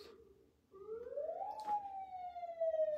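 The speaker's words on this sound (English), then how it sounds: "a siren just went by" An emergency vehicle's siren sweeps up and wails as it passes by outside, fairly distant and steady after a quiet start, with no talking.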